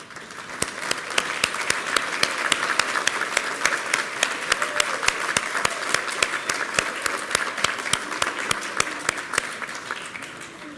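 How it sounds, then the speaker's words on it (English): Sustained applause from a sizeable audience at an awards ceremony fills the room, a dense, even patter of many hands clapping for about ten seconds. "could you stand so we can give you a round of applause?"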